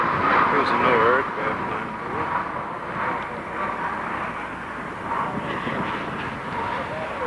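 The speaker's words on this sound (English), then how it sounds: "There's 2 aircraft. One's the NOAA P3," NOAA P3 hurricane research aircraft flying nearby, a steady broad engine roar that stays loud throughout, with a slightly stronger swell at the start.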